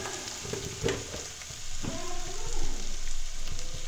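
Onions fry to golden brown in a pan with a dense, steady sizzle, close by, interrupted by a couple of stirring scrapes.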